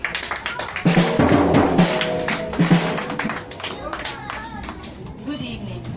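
Scattered audience clapping at a church Nine Lessons and Carols evening, building into a short burst of applause and tapering off, with some voices and room noise around it.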